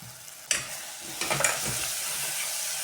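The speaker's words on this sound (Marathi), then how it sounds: "हिरवं वाटण थोडंसं परतते." Green spice paste mixed with tomato sautés in a pan with a pinch of asafoetida for a dal-potato dish, giving a steady close sizzle broken by a few sharp spoon scrapes and stirs.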